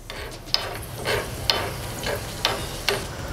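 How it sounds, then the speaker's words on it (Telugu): Urad dal and cumin seeds fry in hot oil over a low flame, giving a steady crackling sizzle with four or five sharper clicks of a spoon stirring the pan at roughly even intervals, with no one talking. "ఆయిల్ కాస్త వేడెక్కిన తర్వాత ఇందులో 1 టీ స్పూన్ మినప్పప్పు, 1/2 టీ స్పూన్ జీలకర్ర వేసి కాసేపు లో ఫ్లేమ్లో వేయించుకుందాం"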